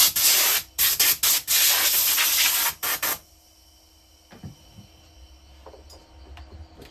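Compressed air blasted over a freshly cut wooden workpiece on a CNC router, making a loud broadband hiss in short bursts for about three seconds before cutting off, leaving faint workshop noise and small clicks.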